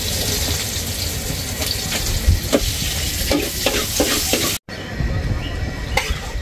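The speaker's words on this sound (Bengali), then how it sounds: "আর এই যে কাঁকড়া ফ্রাই হচ্ছে আবার, এই যে কাঁকড়া ফ্রাই।" Crab frying in a pan in a seaside lunch kitchen at Kuakata gives a dense, close hiss with scattered crackles and stirring taps. A brief dropout breaks it before the sizzle resumes.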